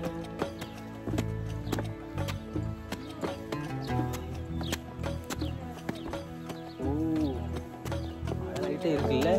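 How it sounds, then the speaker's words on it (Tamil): Horse hooves clip-clopping in a steady walking rhythm along a path near an excavated temple site, with repeated thuds mixed under music and occasional voices. "இந்த வழியாதான் குதிரை ஏறி போச்சு."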